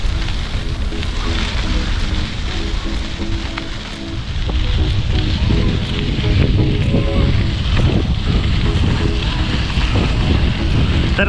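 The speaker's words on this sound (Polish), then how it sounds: "Teraz jadę centralnie pod ten wiatr, pod ten deszcz, tam śnieg." Strong wind roars against the microphone while cycling into wind, rain and snow, a constant rumbling buffet, rain patter and faint ticking on top, no talking.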